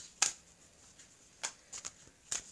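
Oracle cards, a Tree of Life deck, shuffled in several short, crisp bursts: one near the start, then three or four more riffles spaced out after a quiet pause, close and fairly soft with no voices.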